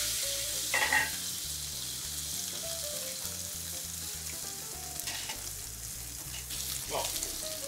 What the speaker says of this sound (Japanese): 煙出てきたら肉を置きます